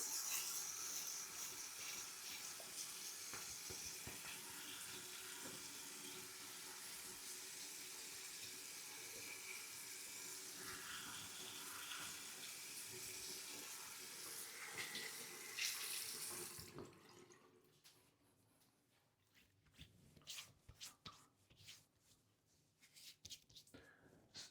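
Tap water runs steadily into a bathroom sink while a face is wetted before a shave with a Merkur 34C double-edge safety razor, a constant splashing flow that stops abruptly, followed by quiet handling sounds.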